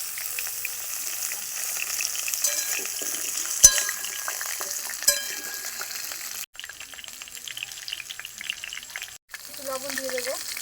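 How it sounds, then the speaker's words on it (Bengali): Potatoes and papaya fry in hot oil in a wok, giving a steady crackling sizzle with a few sharp clicks and brief breaks; a faint tonal sound near the end. "তেলটা গরম হয়ে গেছে, ভেজে নেব এগুলো"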